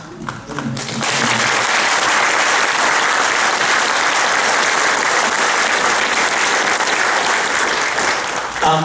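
An audience at a Pacific Connection performance bursts into loud, sustained applause after a brief spoken line, a thick wash of clapping that holds steady for several seconds.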